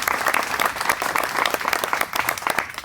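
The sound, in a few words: applause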